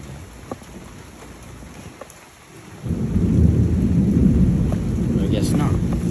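Thunder rolls in during a heavy thunderstorm, a deep loud rumble building after a quieter stretch of steady rain and scattered drips, then sustained roaring rain and thunder filling the rest.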